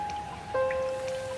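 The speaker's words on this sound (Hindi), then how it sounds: "अंधाधुंध बारिश" Heavy downpour hissing steadily at moderate level with a faint tonal hum running through, no talk, brief and continuous.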